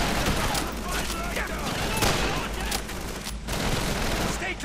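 Dense machine gun fire and scattered gunshots crackle continuously in a Call of Duty 3 battle, a busy, noisy wash of shooting mixed with shouted voices.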